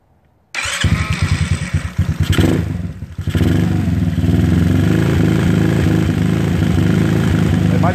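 A GY6 scooter engine with a suspected top-end head or exhaust gasket leak starts up and settles into a steady, loud, close idle with a rough, clattering beat that runs to the end.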